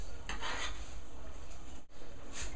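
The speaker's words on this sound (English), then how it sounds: "Give it a stir." Spaghetti alla pescatora stirred in a pan, a steady close scraping and rasping of utensil against metal with a soft sizzle beneath, pausing briefly before resuming.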